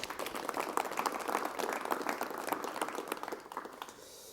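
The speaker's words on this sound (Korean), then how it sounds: "여러분 박수를 부탁드리겠습니다." A studio audience at a Korean television talk show breaks into applause that holds steady at moderate loudness, then thins and fades out toward the end.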